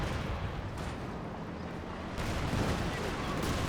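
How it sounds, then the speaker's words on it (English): Soviet Katyusha rocket barrage in Company of Heroes 2, a continuous roaring, rumbling salvo of distant launches and impacts that swells louder partway through, with a voice talking faintly beneath. "Katusha Barrage"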